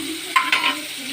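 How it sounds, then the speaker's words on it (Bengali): Shrimp fry in oil in a wok, a close sizzle punctuated by two sharp spatter bursts as they are stirred, then settling back to a softer steady hiss. "চিংড়ি মাছটা ভাজা হোক।"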